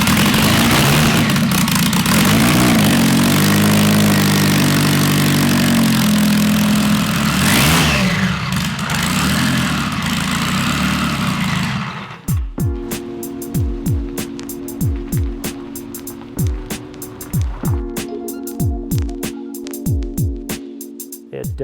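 The Miss Daytona vintage race boat's engine running, a loud roaring rumble that suddenly drops to a rough, lumpy idle of rapid rhythmic pops and bursts.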